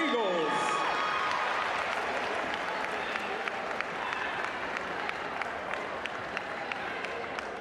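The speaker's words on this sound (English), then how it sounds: "One more round of applause for the Jacksonville Golden Eagles." A gym crowd at a county basketball tournament championship gives a sustained round of applause for the Jacksonville Golden Eagles, with dense, steady clapping and scattered sharp individual claps throughout.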